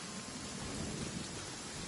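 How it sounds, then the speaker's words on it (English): Steady rain in a video game, a dense even hiss with a low rumbling undertone, continuous and moderately soft, with no voices over it. "Ah, it's nice and rainy."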